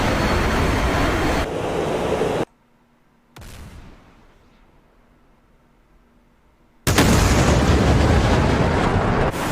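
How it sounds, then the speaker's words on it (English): Su-57 missile launch in a flight combat game: a loud roaring whoosh cuts off into near silence, then a sharp burst trails away into a hiss before a second heavy roar surges back in. "Cap is firing missile."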